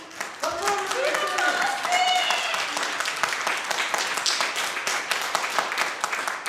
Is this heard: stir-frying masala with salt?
no